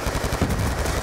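Rapid automatic gunfire from Call of Duty Black Ops 2 crackles in a dense, evenly spaced burst, loud and close for about a second.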